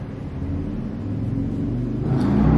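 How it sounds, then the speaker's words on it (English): Car rumbling past outside, a low steady rumble that grows slightly louder toward the end, heard alone with no talk. "I thought it was thunder, but it was a car."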